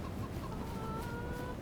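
Chickens cluck softly in the video game Farming Simulator 25, heard faintly and steadily over a low ambient farm background.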